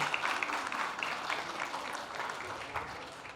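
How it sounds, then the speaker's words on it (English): Audience applause at a product launch event for a serum and moisturizer, a dense steady wash of many hands clapping throughout, fairly close and loud, with no speech over it. "Can we have a huge round of applause for her?"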